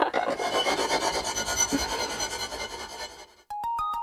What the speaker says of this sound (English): The sharpening of the kana is finished.